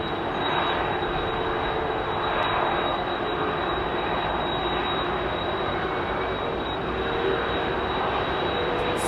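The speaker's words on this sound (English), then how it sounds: "let's just all keep quiet for this 767" A Boeing 767 jet airliner passing at London Heathrow, a loud, steady roar of engines that swells slightly and holds broadband for the whole stretch, with no talk over it.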